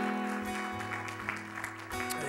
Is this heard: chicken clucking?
no